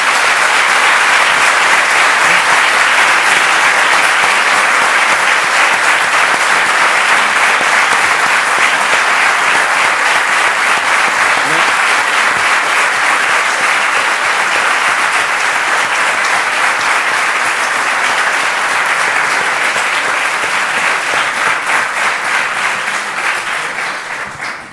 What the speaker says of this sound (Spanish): Este aplauso casi me compensa al no ver al Oviedo hoy.